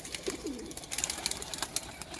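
Pigeons kept as fancy birds for sale, cooing softly in soft repeated calls against a steady background hiss, with no one talking.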